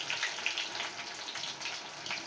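Chopped onions hitting hot oil already seasoned with whole bay leaf and cloves, for a mutton mustard curry, giving a steady close sizzle with scattered small crackles and pops throughout.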